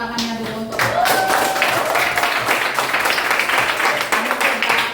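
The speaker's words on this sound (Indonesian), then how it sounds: "Bapak meminta tepuk tangannya dulu" Classroom applause from a group of students, a dense sustained patter of clapping lasting several seconds, fairly loud and close, with faint voices mixed in.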